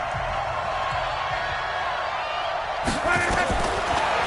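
A loud indoor dome stadium crowd roars during a Saints vs Colts American football game as a goal-line play approaches, a continuous swell of noise under a commentator's voice that grows louder near the end.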